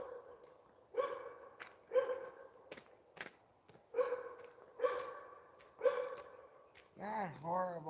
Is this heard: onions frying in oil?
no